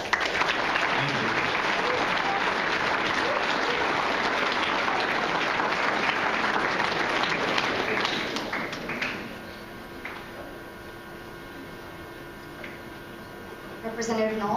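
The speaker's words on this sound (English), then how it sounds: "I'd just like everybody to give a big round of applause" Audience applause at a 2014 YES Breakfast event, a sustained even clapping from a seated crowd for about nine seconds, then fading to quieter room sound with a few scattered claps.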